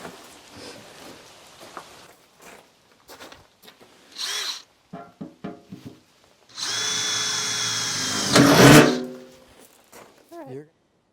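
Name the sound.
power drill drilling holes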